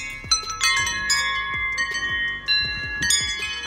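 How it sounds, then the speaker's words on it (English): Metal wind chimes being hung on a backyard tree on a calm morning ring out in several bright, clear strikes whose tones linger and overlap, close by with no talk. "I'm going to put the wind chimes back up."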